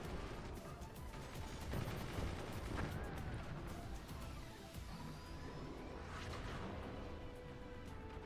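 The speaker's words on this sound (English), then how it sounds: "solid heavy mortar hit" Heavy mortar fire rattles across a battle in the Forts RTS video game, dense crackling impacts and blasts layered with scattered sharp hits, faint and continuous throughout.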